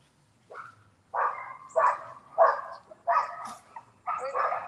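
Dogs bark in a run of six sharp, fairly close barks spaced about half a second apart. Some are doubled or yippy, and they sound over otherwise quiet surroundings.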